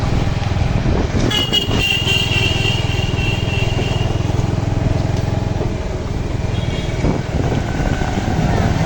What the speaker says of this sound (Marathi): दादा दादा हॉर्न वाजे